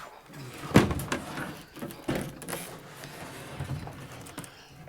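Cabinet door of an Omtech F-30 fibre laser opening, a sharp knock and clatter early on followed by lighter bumps and rattles as the panel is handled up close.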